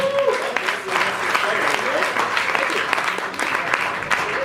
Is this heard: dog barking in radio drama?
no